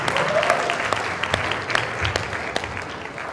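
Students in a classroom applaud a classmate, a brisk burst of clapping from a small group with a few sharp individual claps standing out, close and fairly loud.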